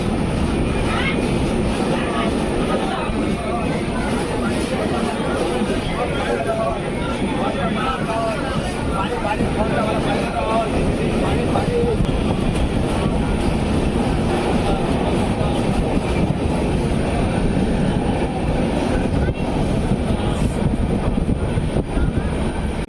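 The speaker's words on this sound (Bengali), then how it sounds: "তিনটে 41 আমাদের ট্রেন ছেড়ে দিল বালেশ্বর স্টেশনে 3 নম্বর প্ল্যাটফর্ম দিয়ে" The Puri–Shalimar Dhauli Express pulls out of Balasore station from platform 3, a loud, steady rumble and rush of wheels and carriage noise with murmuring voices mixed in.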